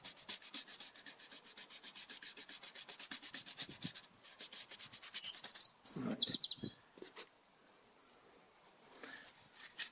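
A garden bench is scrubbed with Biosativa bio cleaner diluted about 1 to 10, giving a steady, gentle rhythmic rubbing that stops partway, with birds chirping nearby in the outdoor setting.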